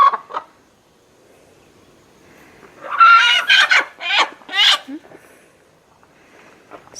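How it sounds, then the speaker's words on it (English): An unhappy chicken on a farm lets out a few loud, harsh squawks and clucks in quick succession, between quieter stretches with faint background noise. "It's not a happy chicken."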